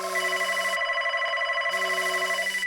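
A telephone rings in two repeated electronic bursts separated by a short pause, clear and close with no voices.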